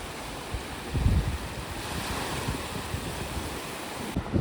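Sea waves wash onto a Konkan shore at low tide, carried on gusty wind that buffets the microphone. Low surges rise and fall under a constant broad rush, with a stronger swell about a second in.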